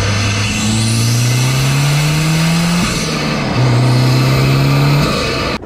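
A Mazdaspeed 6 engine with a cold air intake revs hard through the gears, its tone climbing, dropping at each shift, then climbing again, loud and close with an intake roar.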